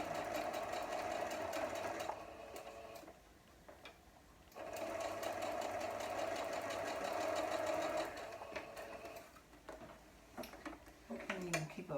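A sewing machine runs in sustained bursts while stitching quilt block seams, a close mechanical whir that stops and restarts, with a voice talking briefly near the end.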